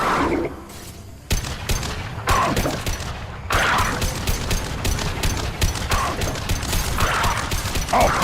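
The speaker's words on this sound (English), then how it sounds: "Firing a high impact shot." Rapid gunfire in Mass Effect Legendary Edition, including a heavy high impact shot, sharp repeated cracks in bursts after a brief lull, loud and close, layered with clanking combat noise.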